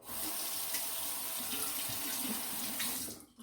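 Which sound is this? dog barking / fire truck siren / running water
running water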